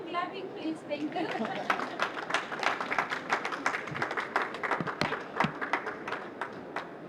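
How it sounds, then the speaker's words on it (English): An audience at the opening of the Africa Ocean-Climate Solutions Pavilion keeps clapping steadily, with dense overlapping claps at close range and murmured voices mixed in. "Continue clapping, please."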